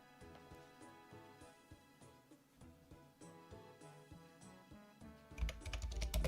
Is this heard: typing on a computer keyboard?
yes